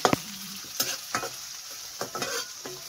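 Onion and green chillies sautéing in a pan for spiced khichdi, with a steady close sizzle broken by several sharp scraping stirs of a spoon against the pan.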